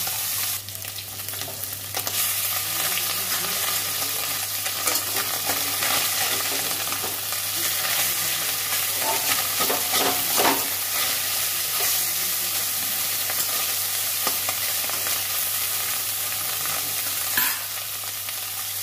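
Fish frying in a pan, giving a long, steady sizzle with scattered crackles and spatula scrapes clustered in the middle, plus a low constant hum underneath.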